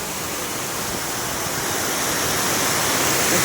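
Water rushes steadily and loudly, a continuous even roar like a stream or small waterfall.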